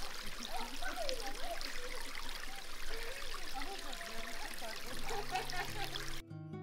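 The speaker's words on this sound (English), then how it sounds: "I like the forest and these springs, the sounds of water," Water from sacred forest springs in Udmurtia trickles and flows steadily, a close, continuous babble that runs throughout, with a brief different sound entering near the end.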